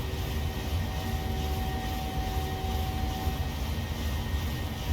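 A steady, broad roar of jet engines at takeoff thrust in a Boeing 737 flight simulator, droning evenly throughout with a faint tonal whine, and no voices.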